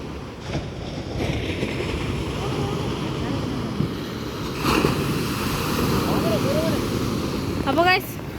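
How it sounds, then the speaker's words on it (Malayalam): Rough, violent sea waves surge and wash continuously close by, with wind buffeting the microphone throughout and a few brief voices over the constant roar. "കടൽ ഇച്ചിരി ഇന്ന് വയലന്റ് ആണല്ലോ."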